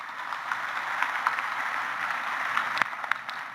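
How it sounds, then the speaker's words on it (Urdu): Audience applause at a speaking session, steady scattered clapping from a crowd held at a moderate, somewhat distant level with a few sharper individual claps standing out. "میرے خیال میں تالیوں سے آپ کو جواب مل گیا ہوگا"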